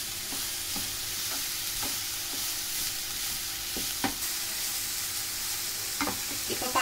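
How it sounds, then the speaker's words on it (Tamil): Chopped vegetables for a veg momo filling sautéed lightly in a pan, a steady low frying hiss with scattered spoon scrapes and taps, close and fairly quiet, no talk. "இது கொஞ்சம் லைட்டாக வதங்கிக்கிட்டோம்."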